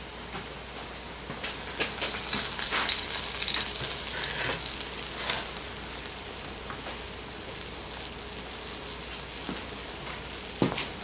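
Cornbread batter sizzles in a hot skillet, a continuous close crackling hiss with scattered pops and occasional clicks, steady and without talk.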